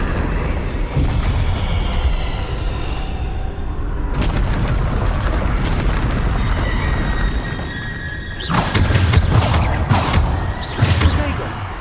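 Bombarda blasting spells and combat effects from Hogwarts Legacy on PC, loud booming bursts over constant rumbling action noise, with sharp repeated impacts clustered near the end.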